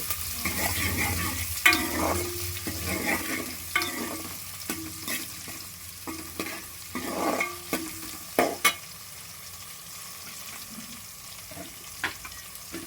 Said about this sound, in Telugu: ఇవన్నీ బాగా ఫ్రై చేసుకోవాలండి.